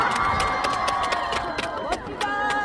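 A crowd at the Imsil Okjeongho cherry blossom festival cheers and shouts in lively, overlapping bursts, with whoops and claps scattered through the noisy outdoor din.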